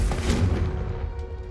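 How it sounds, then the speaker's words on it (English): A Confringo spell explosion in Hogwarts Legacy: a single loud booming blast that rings and decays over about a second and a half, with no talk. "Confringo! I am blowing up everything."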